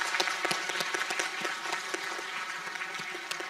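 Students and guests applaud at a school book publication ceremony, a hall full of hands clapping in a steady, moderately loud patter with individual claps standing out, no speech over it.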